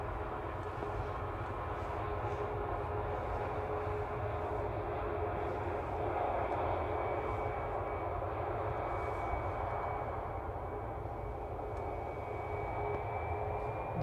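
Jet aircraft engines at Manchester Airport drone steadily as planes begin moving, a distant, sustained low rumble with a faint rising whine, no talk over it.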